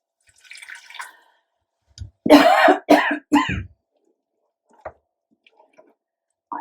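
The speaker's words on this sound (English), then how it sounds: "now we're going to go in with some water" Water is poured into cottage pie mince in a Ninja cooker, a few short splashy gurgling bursts close up, separated by quiet gaps and faint clicks.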